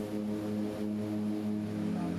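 A small floatplane drones steadily over remote lake country, its propeller engine giving a constant, close, even hum with no other sounds.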